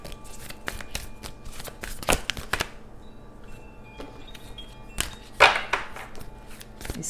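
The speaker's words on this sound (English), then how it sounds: "These cards are still new, so they're still challenging to shuffle." New, still-stiff playing cards shuffled by hand, giving a run of crisp riffling flutters and sharp snaps in bursts, close and fairly quiet, with no talking.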